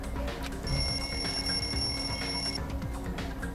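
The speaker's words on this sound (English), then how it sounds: "The lounge's wall clock alarm started ringing at 5:30." A wall clock alarm rings in the lounge in Danganronpa 2, a steady electronic bell tone held for about two seconds over busy game music.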